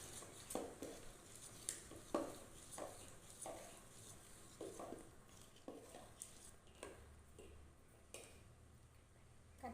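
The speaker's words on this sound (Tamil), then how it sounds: "அதிரசத்துக்கு மாவு போட்டு கிண்டலாம்." Athirasam flour dough is stirred in a pan, giving irregular soft scraping and tapping strokes of a spoon against the metal, faint and close, with no talking.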